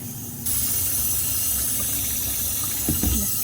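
Water gushes steadily from a tap into a felting bin, a constant close rushing flow that starts abruptly and continues without pause.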